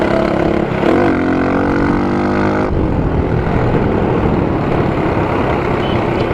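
Motorcycle engine with a first-copy Yoshimura USA slip-on exhaust, a loud close drone that revs up with a rising whine, then drops to a rougher steady rumble, with no talk.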